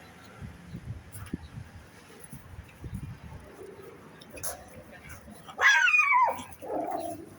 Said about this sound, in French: Bella, Bella, elle a vu un grand chien, ça y est